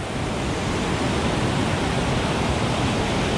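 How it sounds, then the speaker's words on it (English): Rushing white water churned up by strong wind at a striper fishing spot, a loud, steady, unbroken roar of surf and gusting air with no voices. "A lot of white water."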